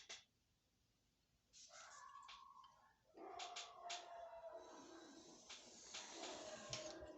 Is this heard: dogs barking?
yes